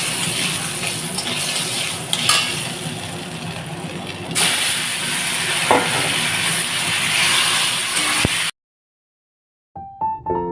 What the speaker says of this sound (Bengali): তাও এখন আবার তেল গরম করে আবার বড়ি ভেজে ওর মধ্যে শাক দিয়ে দিচ্ছি